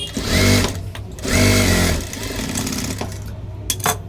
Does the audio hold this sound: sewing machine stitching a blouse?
yes